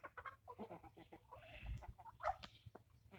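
Hens and a rooster cluck and squawk in a farmyard, several birds calling at once with short, irregular bursts, fairly close.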